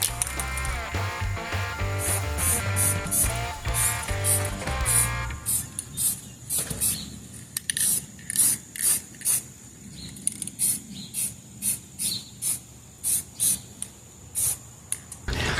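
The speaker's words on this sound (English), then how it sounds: "Get this cheapo black spray paint." Cheap black spray paint hissing from a can in short repeated bursts, with rattling and handling noise before it, close and moderately loud with no talking.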